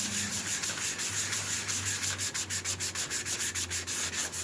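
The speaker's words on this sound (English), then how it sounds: "David, you're getting sawdust all over your clothing and stuff." Close, steady back-and-forth sanding strokes rasp across a wooden cheese board in a quick regular rhythm of many strokes, with no talk over them.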